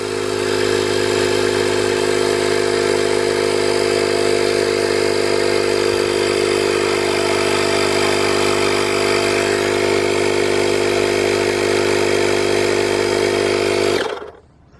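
A portable car tire inflator runs steadily with a loud, even buzzing motor hum for about fourteen seconds, then cuts off abruptly near the end.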